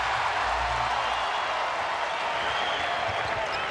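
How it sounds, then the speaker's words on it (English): A basketball crowd at the Air Canada Centre during a Cavaliers–Raptors NBA game, a steady loud roar of cheering and clapping filling the arena with no break. "this crowd starting to get into it now at Air Canada Center"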